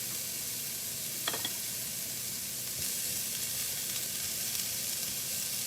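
Sauce hits a hot pan of keto beef and broccoli and sets off a constant close sizzle and hiss, with a few faint stirring clicks near the start.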